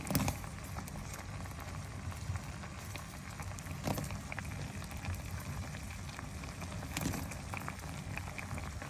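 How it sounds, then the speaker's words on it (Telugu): A pot of okra, tomatoes and onion simmering in water, a steady close bubbling and popping that runs continuously at moderate volume with no voices. "బెండకాయలు, టమాటోలు, ఉల్లిపాయ ముక్కలు వేసేసి ఉడకబెట్టుకుంటున్నాను."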